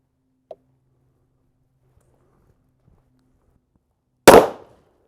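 One loud, close report from a 1911 pistol chambered in .45 Super with Underwood 255 grain ammunition and a factory ported barrel, preceded by a faint click and near silence.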